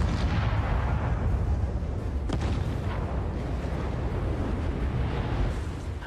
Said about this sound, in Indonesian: terjadi ledakan yang luar biasa yang merusak area di sekitarnya.